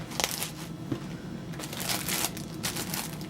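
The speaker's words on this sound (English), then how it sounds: "I'm going to go ahead and wrap that metal in a plastic baggie" A plastic baggie crinkles and rustles close by in a workshop, a steady crackling with brighter bursts as it is handled, with no voices.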